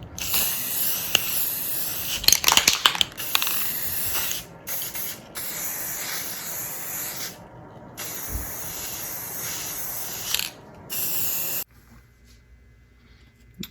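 Bursts of light green spray paint hissing from an aerosol can onto a handmade jerkbait fishing lure, several sprays of varying length with short pauses between, close and loud, ending in quiet.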